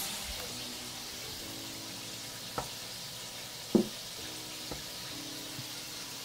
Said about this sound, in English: This is like frying like crazy. I love this sound.